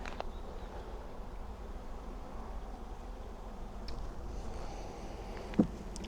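Honey bees gather around a hive entrance, giving a faint, steady, low buzzing hum that runs throughout, with one brief soft knock near the end.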